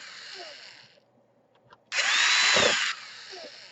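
A power driver runs one short burst of about a second while fastening small screws into an Asus X200L laptop case, close and loud, following a few quiet clicks and handling sounds.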